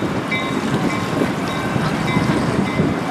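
A Lake State Railway freight train led by locomotive LSR 1501 rolls steadily near a Michigan paper mill yard gate, a continuous loud rumble with wheel noise and some wind buffeting the microphone throughout.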